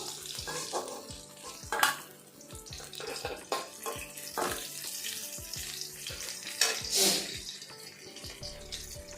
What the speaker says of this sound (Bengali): একটা পিঠ হলো আরেকটা পিঠ ভালো করে ভেজে নেব